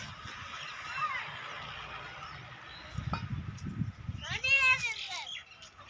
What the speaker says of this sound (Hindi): ये देखें मुर्गियां वगैरह भी हैं